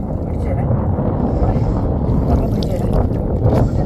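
Strong wind gusts buffet a boat out on a water-filled paddy field with blooming water lilies, a loud, continuous rumbling roar close to the microphone.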